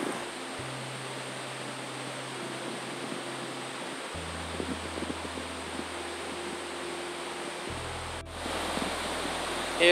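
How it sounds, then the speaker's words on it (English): Rushing forest creek with waterfalls far below, a steady broadband roar with faint low hums and a small rise near the end, heard from a distance without talking. "You can probably hear the creek, it's really loud."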